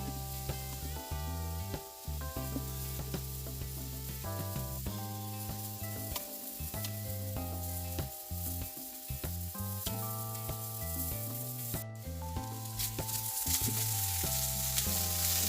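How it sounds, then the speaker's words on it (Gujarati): Carrots, boiled peas and tomatoes sizzle steadily in a pan for quinoa upma, a close, continuous fry with occasional stirring scrapes and no voices. "ગાજર, વટાણા, ટામેટું બધું સારી રીતે શેકાઈ ગયું છે"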